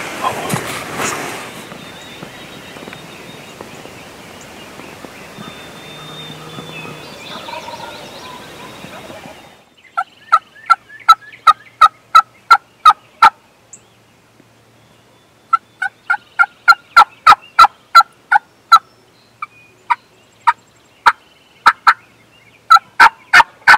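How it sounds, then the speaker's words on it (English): A wild turkey gobbles again and again in sharp, rhythmic bursts, loud and close, after a stretch of muffled rustling and low background noise. "Bubble, you just gobble"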